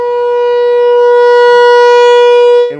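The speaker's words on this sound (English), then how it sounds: "the 11:01 siren goes off mid-pitch" A civil defense siren sounds its 11:01 alarm during an American Legion baseball game. The loud, sustained wail swells slightly, holds, then cuts off sharply near the end.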